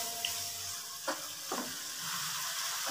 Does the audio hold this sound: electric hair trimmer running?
no